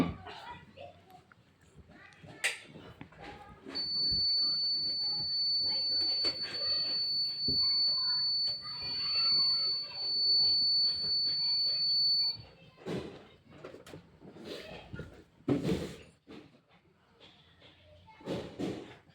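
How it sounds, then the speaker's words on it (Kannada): A Kent water purifier sounds a steady, continuous electronic beep alarm lasting several seconds at moderate level indoors, with household knocks and a voice nearby and brief talk around it. "ಬೀಪ್ ಸೌಂಡ್ ಮಾಡಿ ಹೋಗಿರುತ್ತೆ."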